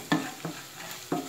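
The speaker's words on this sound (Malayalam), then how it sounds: "ഇട്ടിട്ട് ആവശ്യത്തിന് ഉപ്പും ചേർത്ത് നന്നായി ഇളക്കുക" Spices, asafoetida and salt are stirred in a pan for a Kerala jackfruit seed curry, three soft scraping strokes over a quiet sizzle, close and brief with no voices.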